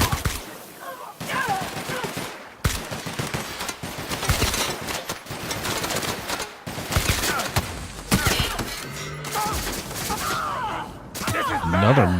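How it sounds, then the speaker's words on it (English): Rapid bursts of gunfire from the player's weapon in the video game The Outer Worlds, loud and dense, with short pauses between volleys and game sounds mixed in. "The noise is me shooting at you."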